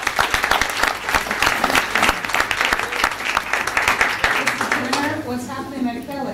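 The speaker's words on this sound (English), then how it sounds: "a round of applause, please?" Audience applause at a school board meeting, a steady dense clapping from a roomful of people lasting several seconds, thinning out at the end as voices emerge beneath it.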